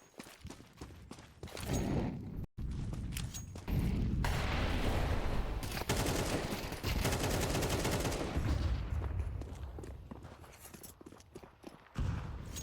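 Counter-Strike 2 match audio with scattered sharp shots, including USP pistol fire, followed by long stretches of sustained rapid gunfire and some footstep-like clatter, all fairly loud and without voices.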